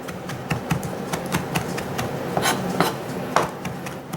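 A kitchen knife chops fresh rosemary, sage and thyme on a cutting board, a steady run of quick, close, crisp taps that keeps going the whole time with no one speaking.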